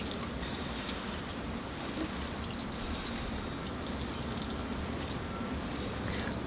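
Water pours steadily from a small watering can onto little bonsai pots on a winter thaw day, a continuous soft splashing and trickling that stays close and even throughout, with no talking.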